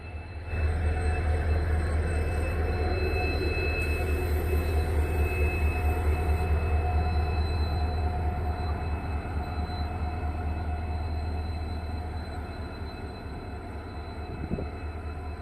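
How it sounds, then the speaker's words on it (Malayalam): Mangalore Central–Kanyakumari Parasuram Express (16649) stands at Shoranur Junction railway station, giving off a steady low engine drone and hum with a faint high whine, continuous and fairly close, easing slightly near the end. "16649 എന്ന ട്രെയിൻ നമ്പറിൽ സർവീസ് നടത്തുന്ന മാംഗ്ലൂർ സെൻട്രൽ കന്യാകുമാരി പരശുറാം എക്സ്പ്രസ്"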